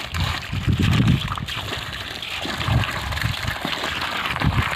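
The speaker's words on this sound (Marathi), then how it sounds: "टँकचं पाणी खाली पडत डायरेक्ट पाण्यात पडत असल्यामुळे गढळत आहे" Water falls steadily into a crab tank as it fills, a continuous close, churning gush and splash with no talk.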